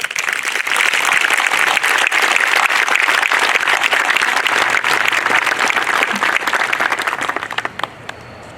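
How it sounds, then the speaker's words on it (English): Crowd applause at a 9/11 memorial ceremony in Acushnet, a loud sustained wash of many hands clapping that continues for several seconds and then tapers off. "I'd ask you to say thank you with a round of applause."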